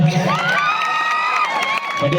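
An audience at a live comedy and music show cheering and shouting, a loud crowd roar with high whoops and children's voices over a couple of seconds.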